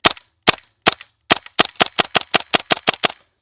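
GHK G5 gas blowback airsoft pistol fires a string of sharp, loud cracking shots up close, first three spaced single shots, then around ten in a quicker rhythm, with no talking.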